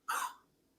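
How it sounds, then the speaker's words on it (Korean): A single short, sharp cough, faint and isolated, with a quick fade and no talk around it. "또는 기침으로 주십니다."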